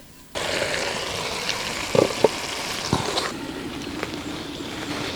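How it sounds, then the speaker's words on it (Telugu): Water poured steadily into a cooking pot to boil rice for raw jackfruit biryani, a continuous filling gush starting abruptly and running on, with a few small knocks and clinks near the pot. "రైస్కి ఎసరు పెట్టుకుందామండి"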